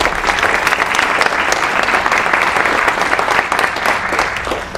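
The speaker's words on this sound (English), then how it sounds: "let's have a round of applause" A seated conference audience gives the steering committee a round of applause, dense sustained clapping filling the room, loud and continuous throughout.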